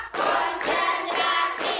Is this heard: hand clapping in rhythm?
yes